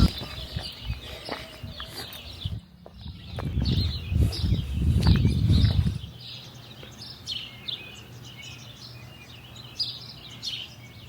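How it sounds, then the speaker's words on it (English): Seagulls and forest birds chirp and call throughout at Percé on Quebec's Gaspé Peninsula, with several overlapping songs near and far, while a rough, loud rustling rises for a few seconds midway. "You could hear seabirds like seagulls, but also like park birds or like forest birds."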